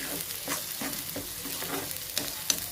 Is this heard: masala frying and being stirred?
yes